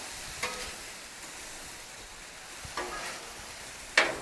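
BBQ chicken and mixed veggies glazed with Sweet Baby Ray's sauce sizzle on a Blackstone griddle, a soft steady hiss broken by a few brief scraping stirs.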